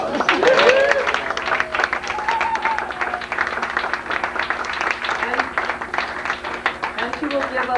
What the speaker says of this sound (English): we had to honor her once again with a card and a bottle of champagne to take home with her, and another round of applause